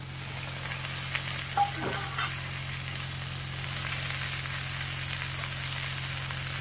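A soft, steady sizzle of onions and tomatoes frying in a pan, with a brief clink of a utensil stirring early on.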